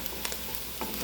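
Garlic frying in a hot pan gives a steady, close sizzle with a few soft stirring scrapes on top.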